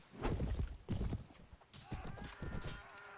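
A horse's hooves clip-clop in a few uneven bursts in Mount & Blade, the Prophesy of Pendor mod, with brief gaps between the footfalls.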